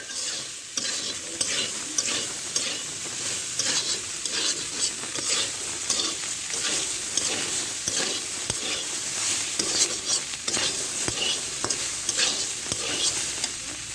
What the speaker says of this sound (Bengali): হলুদ দিয়ে এভাবে নেড়ে চেড়ে নেবো।